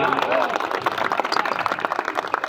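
At a college farewell party, a crowd of students claps in a brisk, uneven burst of applause, moderately close, with a voice and some crowd noise audible early on beneath the clapping.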